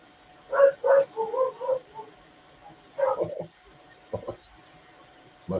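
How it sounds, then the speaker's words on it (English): Puppies bark and yip in short, high bursts, a quick cluster followed by a few scattered yaps, moderately close in an otherwise quiet indoor room. "You hear the puppies."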